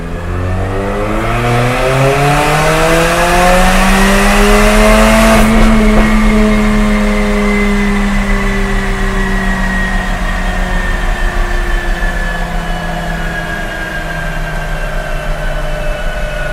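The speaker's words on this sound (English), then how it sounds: "We're going to do another run here, probably do 3, get an average, see what the Armytrix exhaust is doing." Mercedes-Benz CLA45 AMG with an Armytrix valvetronic exhaust, valves open, on a third-gear pull from 2500 to 6500 RPM, engine note rising steadily and loudly before holding and easing off.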